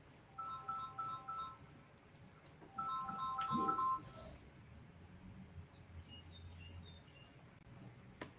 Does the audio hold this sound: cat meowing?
no